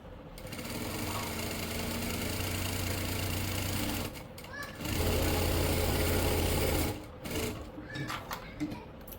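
A sewing machine stitches the sleeves of a kurti in two long, steady runs with a short pause between them, loud and close, with light rattling in the gaps.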